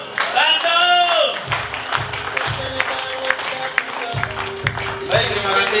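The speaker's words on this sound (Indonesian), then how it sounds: "Berikan aplaus yang terbaik dong, Bandung." Seminar audience in Bandung breaking into applause, a broad patter of clapping that swells and carries on under pulsing background music and a voice over a sound system.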